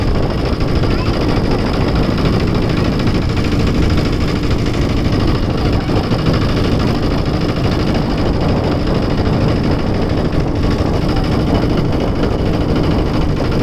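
A steady, rumbling motor boat engine runs throughout, loud and close, with a continuous low drone and no pauses.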